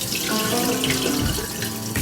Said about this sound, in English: Then rinse and drain until water became clear.